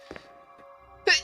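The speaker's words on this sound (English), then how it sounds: "I'm sneezing." A single abrupt sneeze bursts out near the end, loud and close, over faint steady electronic tones from a Resident Evil video game.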